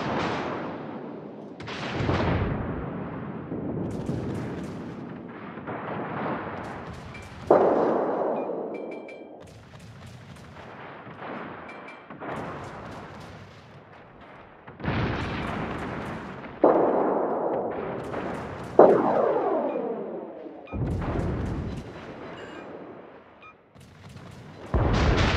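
Naval guns fire in World of Warships as a run of heavy booming salvos, each a loud blast tailing into a rumble, spread unevenly across the span, with some whooshing sweeps between them.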